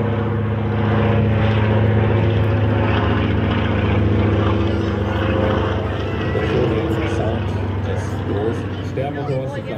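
A loud, steady droning Antonov An-2 biplane propeller engine in slow flight hums throughout, close and continuous, with someone talking over it.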